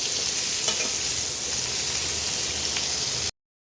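Cauliflower pieces browning in hot oil, a dense, even sizzle close up with occasional faint stirring clicks, continuous until it cuts off abruptly near the end.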